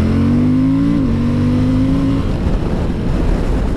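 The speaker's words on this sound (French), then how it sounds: "Ouais, ça accélère fort quand même." A Suzuki V-Strom 1050 motorcycle accelerates hard, its engine note climbing for about two seconds before giving way to rushing wind and road roar.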